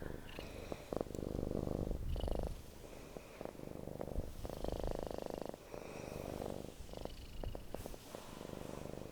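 A cat purrs close up in a soft, rhythmic rumble, each breath-cycle rising and falling in a steady loop for several seconds, quiet and intimate with no talking.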